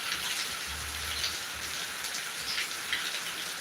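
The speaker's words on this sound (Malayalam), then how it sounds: "വളരെ കിടില മഴയാണ്" Heavy rain falls steadily, a thick continuous patter and hiss with a low rumble underneath.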